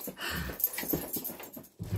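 Dogs play close by with quick panting breaths, soft scuffling and small whimpers, a busy, fairly quiet burst of activity lasting a couple of seconds.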